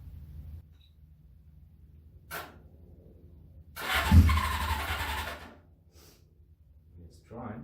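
A Suzuki GS550 cafe racer motorcycle engine gives a loud, close burst of cranking lasting under two seconds, set between quieter stretches. Brief voice sounds occur around it.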